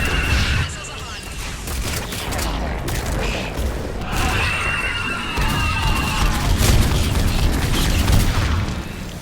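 Missile strikes in Mass Effect 3's Thessia mission pound in a rapid, loud barrage of booms and crashes that roll on without pause, with battle noise and game dialogue mixed in.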